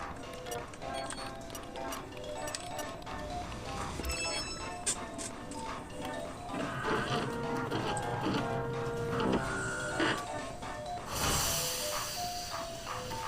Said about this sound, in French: Oh, l'imprimante 3D.